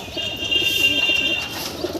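A pigeon, one of a stock of Giribaz and Kaldoma birds kept at home for sale, gives a soft close coo amid faint chirps and background rustle, with no speech.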